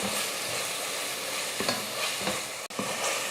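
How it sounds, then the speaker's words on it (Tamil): Tomatoes and masala being sautéed in a pan, with steady sizzling and frying broken by a few scraping stirs of a spoon, close and continuous with no talk. "மசாலாலாம் போட்டதுக்கப்புறமா நல்லா வதக்கி விட்டுக்கணும்"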